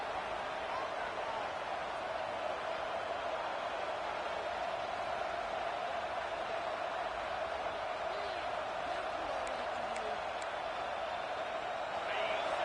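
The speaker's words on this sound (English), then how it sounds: "This crowd, full throat, splitting the eardrums" A stadium crowd at an Oregon college football game gives a sustained, dense roar that stays steady throughout and swells slightly at the end. Distant voices mix into the noise.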